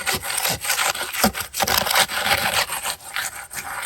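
Rebar is worked into wet, fast-setting concrete, a close, continuous gritty scraping and rubbing with an uneven back-and-forth rhythm and no talk.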